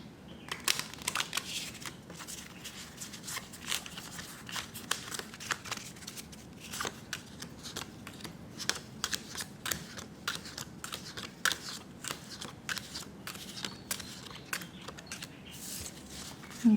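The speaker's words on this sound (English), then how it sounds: "Now we're shuffling for the 4th time." Playing cards being shuffled by hand during a four-kings reading: crisp riffling bursts and soft taps repeating in an uneven rhythm, close and fairly quiet, with no voice heard.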